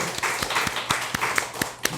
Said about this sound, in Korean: 우리 다시 한 번 더 박수로 격려하겠습니다